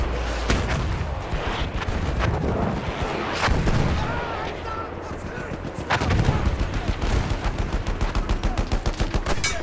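Gunfire in the Battlefield 1 video game during a Conquest match, dense rapid bursts of shots with heavy low booms, continuous and loud throughout, with a faster rattling machine gun run toward the end.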